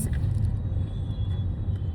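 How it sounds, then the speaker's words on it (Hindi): Road traffic in Pune, India: a steady, loud low rumble of passing cars and engines fills the whole stretch, with a faint high whine above and no clear talk. "सॉरी पुणे का ट्रैफिक"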